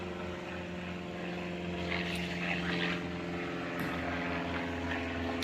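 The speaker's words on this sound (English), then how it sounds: "Another plane." A propeller airplane drones overhead in a steady, moderately loud hum with a low buzzing engine tone, holding evenly for several seconds.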